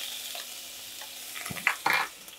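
Grated onion frying in a spoonful of ghee in a pot, stirred with a spoon; a faint low sizzle carries throughout, then a few sharp scraping and clinking stirs come near the end.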